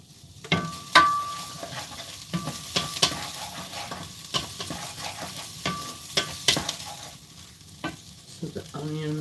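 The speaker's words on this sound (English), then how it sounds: "the onions that we are already cooking are starting to caramelize" Onions fry and caramelize in a pan under a continuous low sizzle, broken by sharp, close scrapes and knocks of a utensil stirring against the metal at irregular intervals, with no voice.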